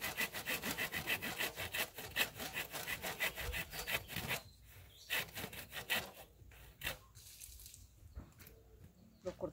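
Hand sawing through large pieces of wood outdoors, a steady rasping back-and-forth rhythm that is dense for the first four seconds, then turns into sparser, intermittent strokes with pauses between them.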